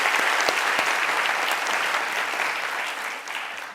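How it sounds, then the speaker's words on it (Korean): A church congregation at a seminary gathering breaks into loud, sustained applause, dense clapping from many hands that holds steady and then starts to thin toward the end. "박수 한번 쳐줘요."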